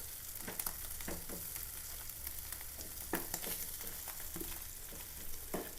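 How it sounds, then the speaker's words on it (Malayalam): Pallathi fish fry in oil in a pan, crackling and sizzling continuously, punctuated by sharper pops and occasional scraping or stirring sounds, fairly quiet and close. "ഒരു സൈഡ് നന്നായിട്ട് മരിഞ്ഞു അടുത്ത സൈഡും കൂടി ഒന്ന് മുരിയട്ടെ"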